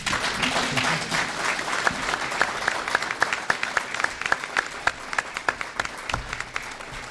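An audience at a mayoral debate in Jeffersonville breaks into applause, a dense run of sharp hand claps that carries on for several seconds. It comes right after a candidate finishes a closing statement.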